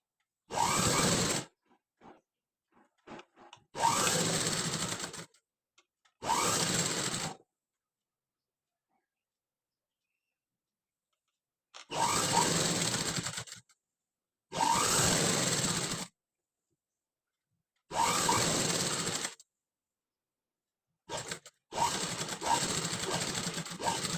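A sewing machine stitches a sleeve onto a blouse in bursts of several seconds each, close and clear, separated by stretches of silence.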